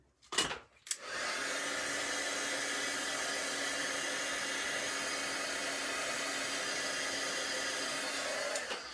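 A hair dryer blows steadily to dry paper, a loud continuous whooshing airflow that starts after a second of brief handling noises and runs without pause to the end.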